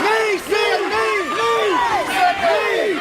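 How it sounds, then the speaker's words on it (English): A crowd at a mixed martial arts fight shouting together in a loud, rising chant, repeated arching yells coming in quick succession close by. "Crowd and the corner calling for Sid Wheeler knees"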